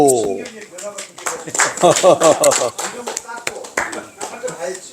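A small group at a university lecture claps briskly and unevenly up close, the applause mixed with overlapping voices talking and calling out.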